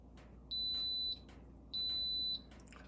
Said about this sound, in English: it'll tell you when that process starts by a beep